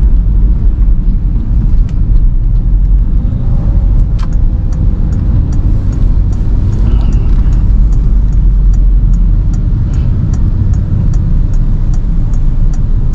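A 2011 Peugeot 3008 with a 1.6L turbo engine accelerates, heard from inside as a loud, constant low engine and road rumble that holds steady throughout without talk.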